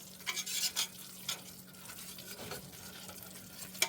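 A whisk works flour into a roux with onions and celery in a soup pot, giving a soft rhythmic scraping and swishing over a low sizzle, close and fairly quiet, with no talking.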